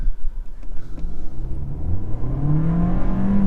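A 2018 VW Golf hatchback accelerates hard from a standstill, its engine note climbing steadily in pitch through the run, loud and continuous from inside the cabin with no talking.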